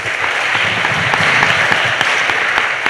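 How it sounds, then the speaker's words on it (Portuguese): Loud, dense applause from a crowd at a Mass in the Cathedral of São Pedro, Rio Grande, continuous clapping filling the space with scattered sharper claps standing out. "Aqui na frente, uma salva de palmas."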